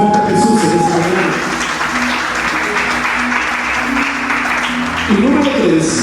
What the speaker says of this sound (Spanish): Denle un aplauso fuerte a Jesús en esta mañana